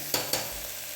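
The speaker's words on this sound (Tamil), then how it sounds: "வெங்காயம் நல்லா வதங்கட்டும்" Onions sauté in a pan with salt and whole spices for a mutton kurma, a soft continuous sizzle broken by two quick stirring scrapes near the start, no talking.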